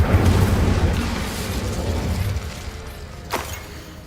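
A fire spell cast in a wizard-themed video game: a loud, broad whooshing rumble that swells at once and slowly fades over a few seconds, with a brief crackle near the end and no voices.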